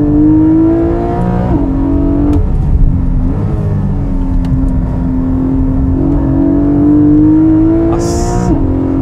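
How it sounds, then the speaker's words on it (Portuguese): A high-revving 4-litre Porsche engine sings loud and close from inside the car while driving, its pitch climbing and dropping through gear changes in a sustained wail. "Isso que é muito legal de um motor que gira bastante."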